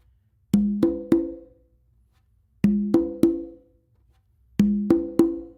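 Three resonant open conga tones strike in quick succession, then pause; the three-stroke pattern repeats three times, clear and close with no talking.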